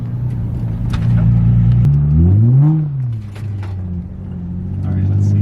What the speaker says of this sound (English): just see how it feels on throttle. When we kind of really get on it